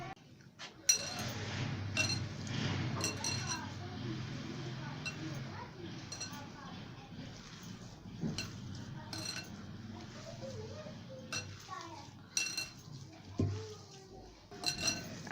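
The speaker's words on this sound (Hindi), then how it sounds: "चाट मसाला, सुर्ख मिर्च, हल्दी, अच्छी तरह से मिक्स करेंगे" Spices including chaat masala, red chili and turmeric are stirred together in a bowl, giving clinks and scrapes of a spoon against the dish in uneven bursts, with a person speaking throughout.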